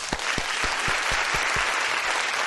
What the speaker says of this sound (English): offering them a warm round of applause